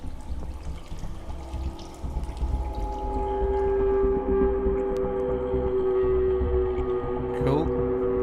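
A looping water sample from the MobileMusicPro free sound effects pack plays steadily, a continuous pouring, trickling wash with a low hum and tonal ringing layered over it, fairly loud throughout.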